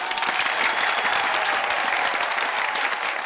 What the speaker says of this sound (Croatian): Jedan veliki aplauz za ove goste